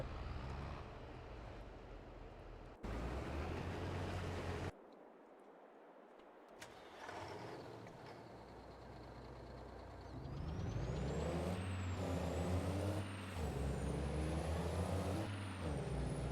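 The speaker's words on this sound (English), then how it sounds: "Whoa, stop tractor." A tractor in Farming Simulator 22 rumbles with a deep engine drone, then pulls up with a hissing blast of its air brakes. Tonal whines and beeps follow over the low idle, with no talking.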